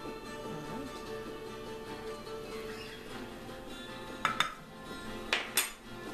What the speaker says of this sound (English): we're going to mix it with the shrimp